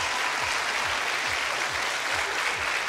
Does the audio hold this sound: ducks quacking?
no